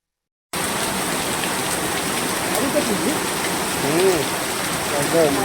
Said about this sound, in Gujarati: પાળિયાદ ધોધમાર વરસાદ